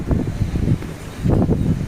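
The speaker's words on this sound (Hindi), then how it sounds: "नहीं, आंधी नहीं चल रही, हवा है बड़ी तेज" Strong wind blows on a home terrace, buffeting the microphone in low rumbling gusts that surge and ease over two seconds, loud and close.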